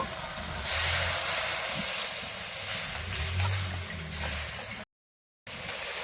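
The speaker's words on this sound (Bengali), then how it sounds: "মাছটা কষানো হয়ে গেছে এখন জল দিয়ে দেব" Water poured into hot fried masala for a duck egg curry bursts into a broad, loud hissing sizzle that swells and fades in waves before a brief gap.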